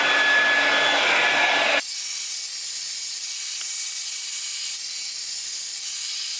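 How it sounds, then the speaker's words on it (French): A Primark hair dryer on its highest heat setting blows while drying hair: a loud, steady airy roar that abruptly drops to a softer, thinner whoosh partway through and keeps running to the end. "je vais commencer par pré-sécher mes cheveux"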